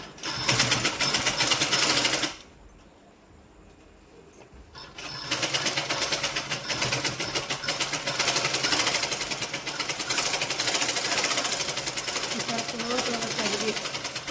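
A sewing machine stitches a nightie dress in rapid, loud, continuous runs, pausing for a couple of seconds before starting up again, with a person speaking during the stitching.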